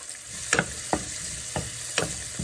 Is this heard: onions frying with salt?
yes